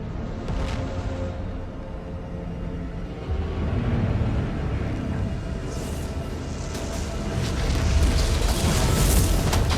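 Deep booming explosions in the video game Doom: The Dark Ages roll over a constant rumbling din, growing heavier and denser toward the end, with sharp bursts cracking through.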